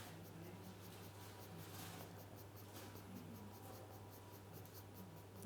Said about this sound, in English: run the pencil up the edge of the line, re-establish where it is, and then take your shades from that line out into the centre